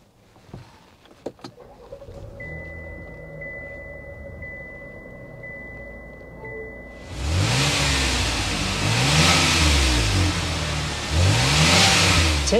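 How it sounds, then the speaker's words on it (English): A 2024 Chevrolet Blazer RS sits quietly with a faint whine before its engine starts, then the exhaust note swells into a loud, steady rumble with rhythmic pulsing revs. "start this thing up so you can hear that exhaust note"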